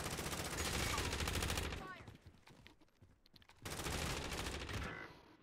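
Rapid automatic gunfire from a Call of Duty: Modern Warfare match, two loud dense bursts separated by a quieter stretch, with a player talking over the shooting.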